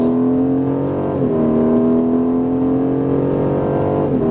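An Aston Martin Vantage accelerates hard on a race track, its engine note climbing steadily and loudly through the gears with brief dips at each upshift.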